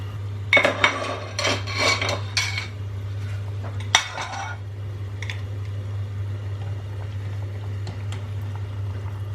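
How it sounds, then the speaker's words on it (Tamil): A metal ladle clinks and scrapes against a pan while spooning hot frying oil over Seeni Ariyatharam on low heat, then settles into a steady, close bubbling hum of oil. "எண்ணெயை இப்படி கரண்டியினால் எடுத்து சீனியத்தின் மேல் ஊற்ற வேண்டும்."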